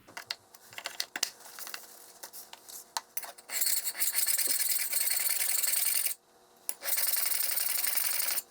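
A steel plane iron's bevel is being honed on a stone, heard as steady rasping, rubbing strokes that build into a continuous close scrape, briefly pausing before resuming.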